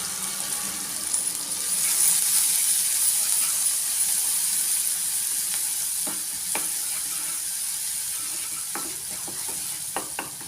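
Chopped onion sizzles in hot oil with cumin seeds in a pan for a potato curry, a steady close frying hiss with a few sharp spatters and stirring clicks, no voices.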